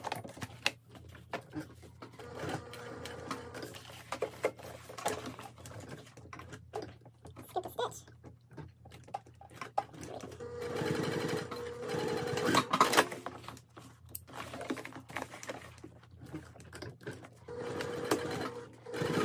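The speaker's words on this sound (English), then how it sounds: "Now we need to top stitch our straps down." A sewing machine top-stitches the straps of a tall tote bag, humming in steady runs broken by brief pauses, fairly quiet and close with no talking.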